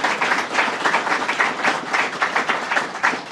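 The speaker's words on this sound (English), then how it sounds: "Let's have a round of applause for that, and the governor." An audience applauds steadily at a governor's bill-signing event, a dense, even patter of many hands clapping throughout without pause.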